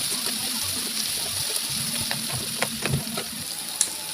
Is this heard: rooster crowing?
no